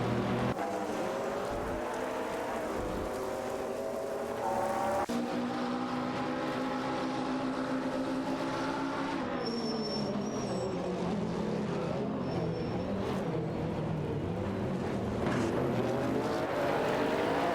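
Race car engines in the racing game Live for Speed drone and rise in pitch as cars overtake, several overlapping whining revs shifting gears, loud and continuous throughout.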